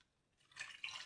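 Water is poured into a pot of chicken and egg curry after the chicken has fried, giving a short, soft splashing trickle that grows over about a second.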